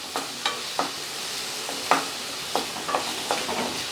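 Chopped tomato and onion sizzle steadily in a hot pan for a country chicken pepper fry, with a spoon stirring and scraping in regular close strokes over the constant frying hiss.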